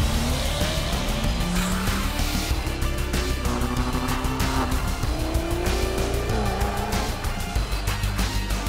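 A BMW 1 Series car races with loud tire squeal and skidding, layered over a steady engine roar that stays dense and loud from start to finish with no talking.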